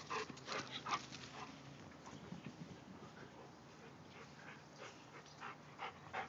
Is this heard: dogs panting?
yes